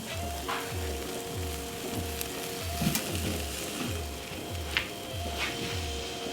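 Food sizzles and fries in a pan with a constant crackling hiss, overlaid by a regular rhythmic thumping pulse and occasional sharp clicks.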